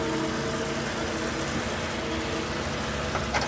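A turbocharged dual overhead cam engine in a Suzuki Jimny, hood open, runs in a steady, fairly quiet hum with a faint airy whoosh over it and no talking.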